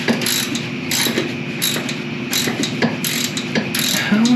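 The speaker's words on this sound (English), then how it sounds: "Those bolts are 9/16, so I'm going to start taking them off." A hand ratchet clicks in quick repeated bursts, loud and close, as 9/16 bolts come off a Rubicon NP-241 transfer case on a Jeep Wrangler TJ, with short pauses between strokes.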